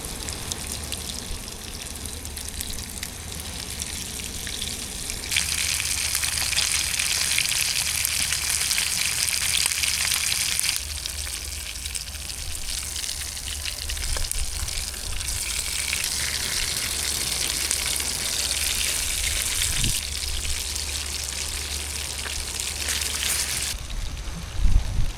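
Freshly caught fish cooking on a stranded island, a continuous sizzling and frying hiss that surges louder in stretches, steady throughout with no voices.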